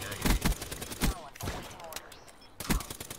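Gunfire from a new gun in the video game Black Ops 3: rapid bursts of shots in quick succession, with a voice talking over parts of the action.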